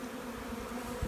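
Steady, dense buzzing of many honeybees in hive boxes, close and continuous, with no talking.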